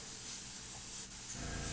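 An airbrush sprays paint onto tabletop wargame terrain, a soft continuous hiss with one short break partway through. It is quiet and close, with no voices.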